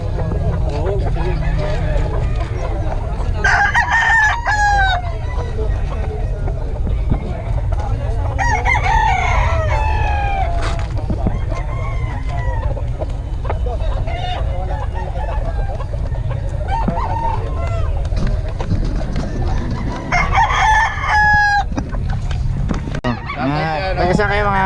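Several roosters crow repeatedly, some near and some farther off, over a constant background hum with occasional voices.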